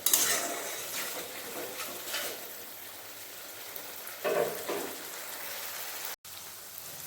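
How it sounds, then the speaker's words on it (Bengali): Ginger-garlic, mustard and poppy seed paste sizzles steadily in a pan while cooking pabda fish rosha, giving a faint, continuous crackling hiss with a few clinks of utensils and no talking. "আদা রসুন সর্ষে পোস্ত ভাজা হয়ে গেছে ভালোভাবে"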